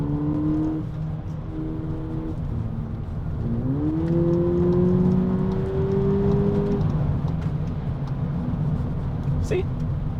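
A 2024 VW Polo GTI with a six-speed DSG accelerates hard, the engine tone rising steadily under a gear change over constant road and wind noise, with someone talking over it inside the car.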